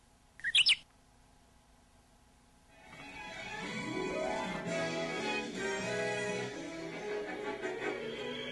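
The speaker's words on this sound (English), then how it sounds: "Stupid bird." Cartoon bird chirping from a Cartoon Network Jetsons broadcast, a brief burst of high tweets near the start, followed after a pause by a swelling musical passage.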